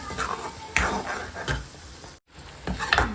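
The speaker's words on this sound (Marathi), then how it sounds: "छान मसाला घातलेला छान तेल सुटेपर्यंत आपल्याला भाजून घ्यायचे" Masala roasting in oil for Khandeshi sev bhaji, stirred with a utensil: repeated scraping strokes against the pan at a steady rhythm over a soft sizzle, close and fairly loud, with a brief silent gap near the end.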